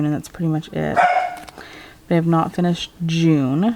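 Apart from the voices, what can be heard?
dog barking in the background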